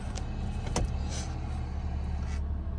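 Steady low engine hum of a 2011 Honda Accord LX after starting, with a brief clunk or click near the start and a faint whirring motor, close and continuous.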